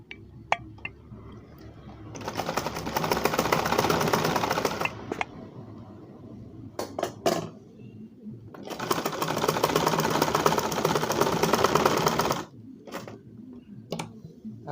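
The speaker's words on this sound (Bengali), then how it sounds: "স্ট্রেট করে এখানে আমরা গোড়া একটা সেলাই করে দেবো" Sewing machine stitching the base of a dinner-collar kameez, two long runs of rapid, even mechanical clatter close by, separated by pauses with brief short bursts and handling clicks.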